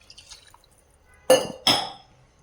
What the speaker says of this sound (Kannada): ಮೂರು ಗ್ಲಾಸ್ ನೀರು ಹಾಕ್ತಾ ಇದ್ದೀನಿ